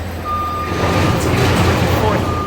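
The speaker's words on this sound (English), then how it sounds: "Here we are in another noisy street." Loud, constant traffic rumble fills a noisy New York City street, with a truck's reversing beep sounding steadily over the din and a voice speaking faintly underneath.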